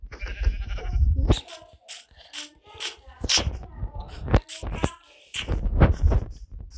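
Sheep in Minecraft bleat in several short, close, separate calls spaced irregularly, with brief rustling between them.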